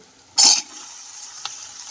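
Tomatoes drop into a pan of onions fried to light brown, giving one loud sizzling burst that quickly settles into a faint steady hiss, with a small clink a moment later.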